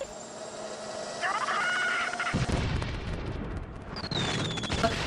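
A deep booming cannon blast in the game The Neverhood bursts in mid-clip, followed by rumbling and a whistling effect over a steady electronic tone.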